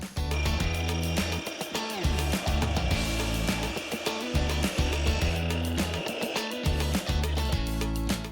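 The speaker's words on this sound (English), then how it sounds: "Now we're gonna take our brace over to our cut station and do our cut." A power saw whines loudly and continuously through a cut in a vinyl fence brace, its pitch wavering as the blade bites, with no talking.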